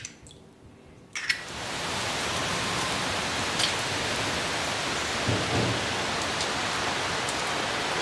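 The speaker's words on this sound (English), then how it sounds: "Stuck in a little downpour here." A heavy rain downpour starts abruptly after a quiet second and then pours as a dense, steady hiss, close and loud, with faint rumbles beneath.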